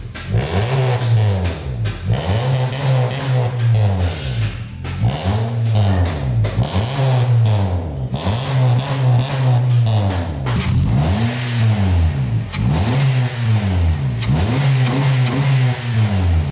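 A Honda Civic FC 1.8 engine with a new Datatech air filter is revved repeatedly, about eight rhythmic rises and falls in pitch, loud and close, with no one talking.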